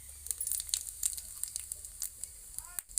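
Cumin and ajwain seeds spit and sizzle in hot oil, a string of sharp crackling pops over a softer hiss, close and moderately loud.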